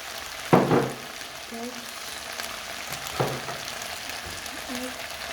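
Onions for chicken fajitas added to a pan on low heat: a soft, steady sizzle with a sharper hit of frying as they land, then a lighter stir a few seconds later.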